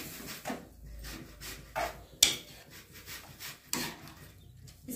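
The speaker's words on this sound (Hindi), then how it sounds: "इसमें डालकर अच्छे से इसको हम मिक्स कर ले रहे हैं।" A spoon scrapes and rubs through grated carrots and milk in a pan for gajar ka halwa, giving irregular, close scraping strokes with quiet gaps between them.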